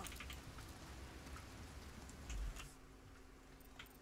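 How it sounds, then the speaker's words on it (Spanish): Rain falls in the video game Resident Evil 4, a faint, soft continuous patter with scattered drips throughout. "Está lloviendo, está lloviendo."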